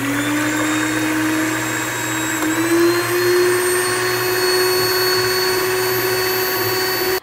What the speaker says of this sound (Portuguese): agora a gente vai bater até ficar a clara em neve com picos bem firmes